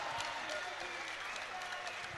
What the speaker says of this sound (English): Please give a big round of applause to your winner in the blue corner.